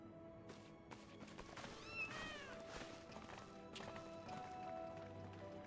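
Cats meow in the video game Final Fantasy XIV, a few short faint mews scattered over quiet game ambience and soft footstep-like taps.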